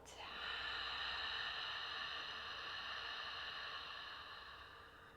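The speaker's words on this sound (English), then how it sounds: "Making this sound in the back of your throat. Let's try it again. Deep breath in and out." A long, steady breath with a hushed, breathy throat sound during pregnancy yoga practice, close and continuous for several seconds, no talking over it.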